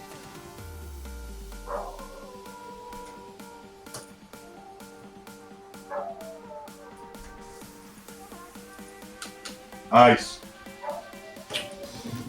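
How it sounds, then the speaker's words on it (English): A dog barks in the middle of the night, with a single brief, sharp bark standing out late in the clip over a constant electronic hum and a voice talking. "You hear my dog?"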